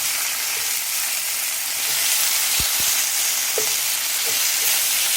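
HEB hayride bacon sizzles in a frying pan with a steady bright hiss, broken by a couple of soft low thumps as the strips are handled.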